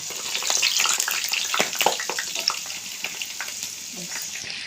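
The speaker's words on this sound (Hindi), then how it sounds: "मैंने इसमें डाल दिया है ऑयल में मैंने, और इसको हमने बहुत अच्छे से जो है फ्राई कर लेना है" Chicken pieces for dry chilli chicken sizzle in hot oil, a continuous bright bubbling fry with scattered pops and spatters, fairly close and with no talk over it.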